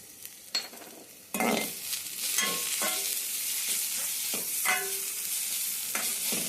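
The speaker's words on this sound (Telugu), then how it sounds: "ఇప్పుడు కొంచెం పచ్చిమిర్చి వేసేసి బాగా కలుపుకొని అల్లం ఎల్లిగడ్డ పేస్ట్ వేసేయండి." Fried onions, green chillies and ginger garlic paste for an egg curry are stirred in a pan, with a steady close sizzle and repeated scraping strokes of a spoon.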